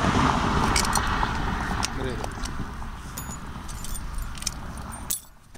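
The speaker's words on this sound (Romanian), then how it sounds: "Ia că atât cheile mele." A bunch of house keys jangles loudly nearby, a metallic rattle that continues under people talking outdoors.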